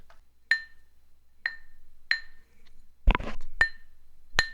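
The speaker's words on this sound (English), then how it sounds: "But when I hit the cup, that it's a B." Glass cup struck repeatedly to sound a pitch: five or six clear, ringing pings at an unhurried, uneven pace, close and bright, with one short scrape or rustle between strikes.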